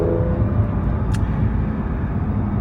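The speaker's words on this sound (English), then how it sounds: "A 2014 Porsche 911 Carrera 4 Cabriolet" A 2014 Porsche 911 Carrera 4 Cabriolet with a 3.4-liter, 350-horsepower engine driving along, giving a steady, loud broadband engine and road roar that holds unchanged throughout, with no voices.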